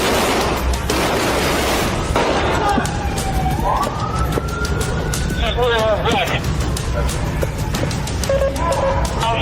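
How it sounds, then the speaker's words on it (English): Rapid gunfire during a police shootout with a hotel gunman: sharp repeated bangs scattered throughout, mixed with a wailing police siren and narration running over the top. "After a barrage of bullets, Oddi realizes he's outgunned."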